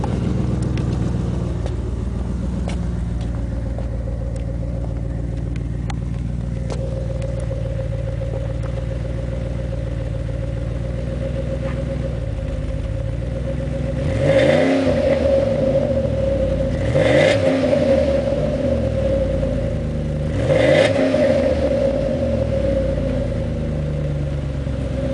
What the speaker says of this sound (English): Let me put it out the back so you can hear it.